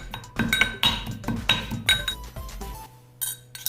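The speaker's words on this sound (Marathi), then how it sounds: "मी खलबत्त्यामध्ये थोडेसे जिरे आणि ओवा थोडेसे जाडसर जाडसरच ठेवायचे आणि थोडेसे बारीक करत आहे" Cumin and carom seeds being ground in a mortar and pestle, a quick run of sharp clinks and knocks, close and distinct, in an uneven rhythm that tapers off near the end.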